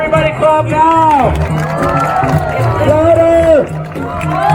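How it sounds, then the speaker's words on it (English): A street-performance crowd in downtown Toronto cheers and whoops loudly and close by, with shouted voices rising and falling over a busy background of clapping and outdoor bustle. "Everybody clap now!"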